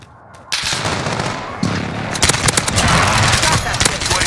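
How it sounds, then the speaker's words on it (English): Rapid gunfire and heavy explosive blasts from a Call of Duty Modern Warfare match, with a precision airstrike called in; dense, loud bursts and cracks build from a quiet start and continue throughout, with voices mixed in. "Friendly precision airstrike on the way."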